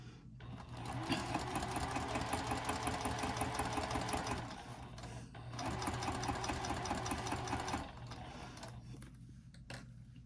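A sewing machine stitches a seam through a bulky wristlet clutch in two steady, rapid runs of close, rhythmic mechanical chatter separated by a short pause, followed by a quieter hum.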